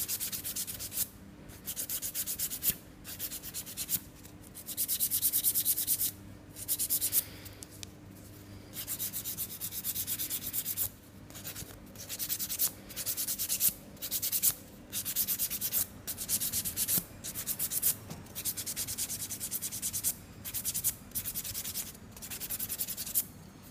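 A nail file rubs back and forth over semi-permanent nail polish with a coarse grit, sanding it off in a steady series of short, close, scratchy strokes broken by brief pauses.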